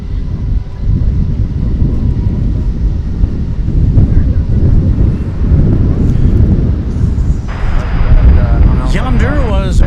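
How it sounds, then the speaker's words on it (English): An American Airlines Boeing 737-800 touches down at DFW Airport, a loud broad rumble with heavy wind buffeting, heard from a distance, and someone talks over the last seconds. "Yonder was American Flight 1288 from Puerto Vallarta, 737-800. Just touching down after 2 hours and 10 minutes"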